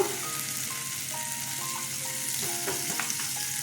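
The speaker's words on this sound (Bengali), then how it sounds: "কষানোর মধ্যেই আমি একটু কাঁচা সর্ষের তেল দিয়ে দিলাম" Sorputi fish curry in mustard sauce sizzles and crackles steadily in a pan after raw mustard oil goes in, with occasional stirring scrapes and small pops over a constant frying hiss.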